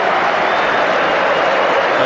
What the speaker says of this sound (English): And they applaud the supporters in return.